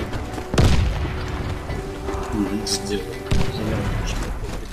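Grenade explosions during a round of an online team shooter game: two heavy booms about three seconds apart, heard under excited voices talking over game noise.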